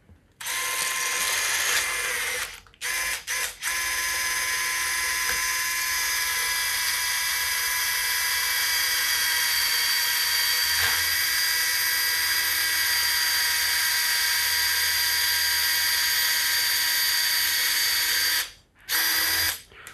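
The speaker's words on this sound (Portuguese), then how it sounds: "Vou utilizar essa broca junto ao meu fio guia." A surgical power drill bores into bone over a guide wire, giving a loud, steady high-pitched whine that runs almost continuously, broken by two brief stops early and near the end.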